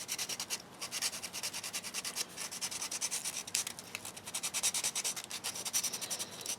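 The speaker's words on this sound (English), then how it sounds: "Just get in there and sand those down." Small matboard miniature pieces are sanded by hand in quick, rhythmic strokes, a close, faint scratchy rubbing that repeats steadily throughout with no talk.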